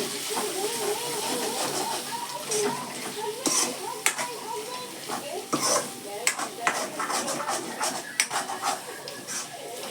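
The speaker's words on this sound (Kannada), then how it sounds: "ಇವಾಗ ಗ್ಯಾಸ್ ಲೋ ಫ್ಲೇಮಲ್ಲಿ ಇಡಬೇಕಿದು ಚಿಕನ್ ಹಾಕಿದ್ಮೇಲೆ." Chicken frying in a pan over a low gas flame while a utensil stirs and scrapes, giving a steady soft sizzle with repeated clinks and scraping knocks against the pan, and a person talking over it.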